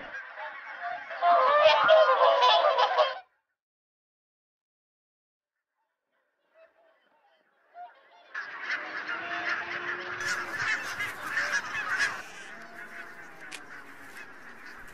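Geese feeding on grain in the farmland of Islay give loud, nearby honking: a short clamorous burst, then silence, then a longer chorus of overlapping calls.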